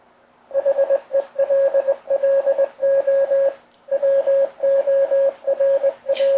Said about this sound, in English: it's going to give us Morse code.